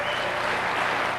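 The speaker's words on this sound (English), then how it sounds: "could you applaud if anybody in this audience watched Lonesome Dove?" Dense, steady applause from a seated audience at a motivational talk, a continuous wash of many hands clapping at close range with no voices over it.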